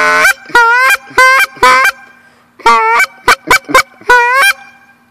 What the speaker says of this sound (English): Here's the Zinc Power Clucker.